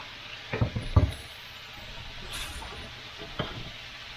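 Steak and peppers fry in a pan with a steady soft sizzle, broken by a few sharp scrapes and clinks of stirring near the start and one more near the end; no one speaks.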